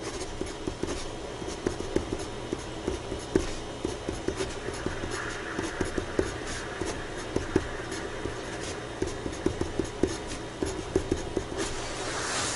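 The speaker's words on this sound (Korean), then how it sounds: "인접대지 경계선 한번 써볼게요" A pencil draws drafting lettering on paper, giving a faint, steady run of soft scratchy strokes and small taps that continue throughout with no talk.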